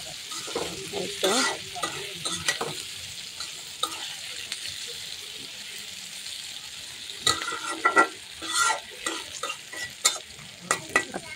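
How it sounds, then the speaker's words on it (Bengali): Eggplant frying in a pan with onion and green chili, sizzling steadily with bursts of scraping and stirring, louder clusters near the start and again toward the end, with no voices. "একটু ভাজা ভাজা করবো, তারপর আমি নামিয়ে নিব।"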